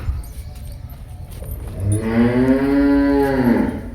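A pregnant Murrah buffalo on a Punjab farm lets out one long, loud, close moo that swells and holds for about two seconds after a quiet start.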